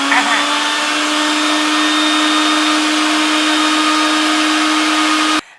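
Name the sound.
mixer grinder running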